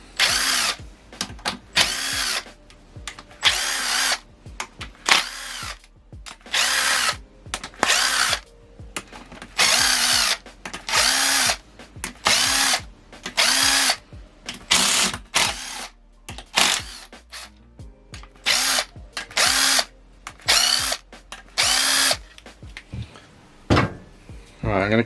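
Power tool spinning out cracked-loose engine bolts on a Ford Fiesta MK5 Zetec S during a rebuild: repeated loud, short whirring bursts, close up, with brief pauses between each bolt.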